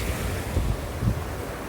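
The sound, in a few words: small waterfall cascade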